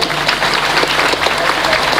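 A large crowd at a religious gathering breaks into loud, dense applause that holds steady for the whole moment, with faint voices mixed underneath.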